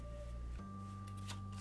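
A deck of cards from the tabletop game Dale of Merchants is shuffled at a table, a short soft riffle of papery flutters over a steady low hum.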